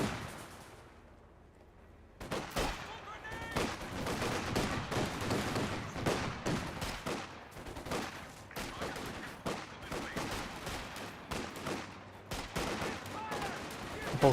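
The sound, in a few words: gunfire in a battle in the video game Company of Heroes 2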